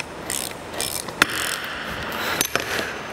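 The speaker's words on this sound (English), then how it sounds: "we're going to unscrew the self-locking nut on the end of our Rigid Industries Radiance" Ratchet wrench loosening the self-locking nut on the end of a Rigid Industries Radiance LED light bar, giving quick close clicking passes with a few sharper ticks and no talk.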